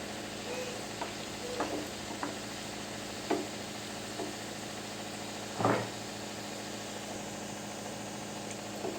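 Low, steady sizzle of spices and turmeric in hot oil, broken by a few soft stirring knocks and one louder scrape near the middle.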